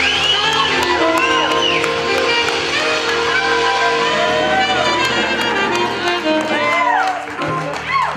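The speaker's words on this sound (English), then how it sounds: "One more time, big round of applause for this wonderful band." An audience cheers, whoops and applauds for a band after a live performance, a loud, continuous roar of clapping and shouts that fades slightly at the end.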